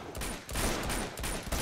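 Dense burst of gunfire from the video game Uncharted 2, rapid crackling shots layered over one another, loud and close for under two seconds.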